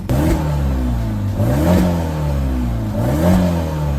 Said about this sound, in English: Sounds a bit better now I've mostly fixed the exhaust blow.